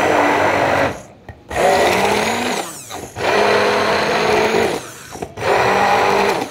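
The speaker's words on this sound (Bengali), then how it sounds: "বাদাম ভিজিয়ে রেখে এটাকে ব্লেন্ড করে দুধের সাথে মিক্স করে" A kitchen blender grinds soaked almonds into almond milk, a loud steady whir running in long bursts with brief pauses between them and a shift in pitch as the motor loads.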